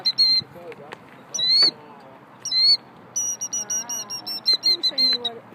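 A bird outside a church after a service gives repeated high squawking calls and chirps in bursts, close and loud, with people talking over and between them.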